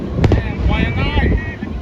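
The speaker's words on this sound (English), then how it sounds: "fireworks show." New Year fireworks over the west side of Oahu in Makakilo crackle and whistle through heavy wind rumble, with one sharp bang early and rising whistling tones, while voices talk nearby.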